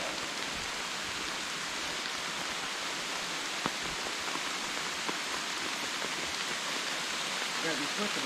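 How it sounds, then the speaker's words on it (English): Steady rain falls on a forest trail in Oil Creek State Park, a dense, even hiss that holds without break from start to finish, close around the listener. "Rain picked up a little bit."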